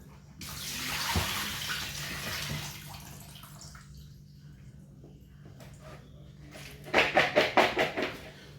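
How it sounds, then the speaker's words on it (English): Waffle cut chips get rinsed under a sink tap, with water rushing and splashing close by, then easing off before a quick burst of rattling, clattering handling. "Just give them another wee rinse."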